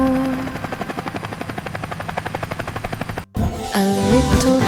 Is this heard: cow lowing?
no